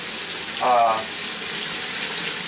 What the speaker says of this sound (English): I like to let that water run, and I'm glad that this basin kind of makes a little puddle in there.